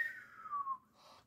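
A voice whistles a thin descending tone that slides down and fades, imitating the whistling wind of the 1932 hurricane in Cuba. It is quiet and brief, with a small breathy sound after.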